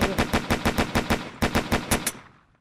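Automatic weapon fire in a Unity-built first-person shooter game: a rapid, evenly spaced burst of about a dozen loud shots, briefly paused once, then trailing off into a short fading echo.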